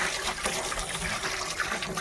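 Water is poured to wash freshly harvested onions outdoors in a Kutch village. The splashing runs continuously, close and fairly loud, for the whole short stretch.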